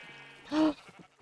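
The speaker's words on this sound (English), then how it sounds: "Where's the baby sheep?" A baby sheep in the Minecraft video game gives a single short, clear bleat, close and alone over faint background.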